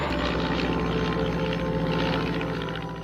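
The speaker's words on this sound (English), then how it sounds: "An HE-3 Luftwaffe plane drops a number of magnetic mines by parachute" A WWII Heinkel Luftwaffe plane drones steadily overhead above the Thames estuary, a continuous engine rumble at moderate loudness with no voices.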